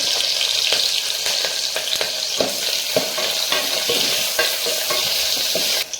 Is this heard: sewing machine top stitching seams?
no